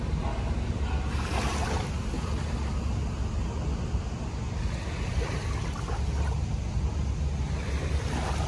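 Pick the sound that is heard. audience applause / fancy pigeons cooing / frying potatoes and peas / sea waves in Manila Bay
sea waves in Manila Bay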